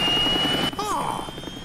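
Cartoon helicopter engine starting up, a steady whine joined by a brief rising turbine sweep, under excited voices in a dubbed animated show.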